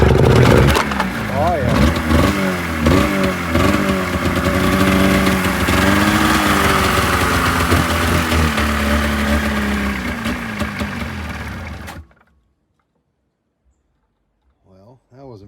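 A Polaris XC snowmobile engine cranks, catches and runs steadily for about twelve seconds with a rough, loud idle and some revving, then cuts off abruptly into silence; a brief voice is heard near the end.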